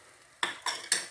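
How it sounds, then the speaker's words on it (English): Tomatoes for a pork and pineapple dish are stir-fried over low to medium heat in a pan. After a quiet start, a utensil scrapes the pan in three sharp, evenly spaced strokes, close and fairly loud. "you stir fry over reasonably low heat, or medium heat, for about 5 minutes"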